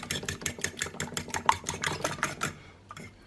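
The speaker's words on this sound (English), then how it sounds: "I've got 3 eggs with a bit of cream. I'm just going to give them a whisk." Three eggs with a splash of cream being whisked in a bowl, a fast run of rhythmic clicking taps close up for about two and a half seconds before it stops.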